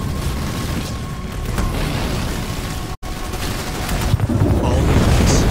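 Rapid gunfire and booming explosions fill a Halo Wars 2 campaign battle, with dense continuous loud rumble, a brief cut, then heavier blasts as combat intensifies.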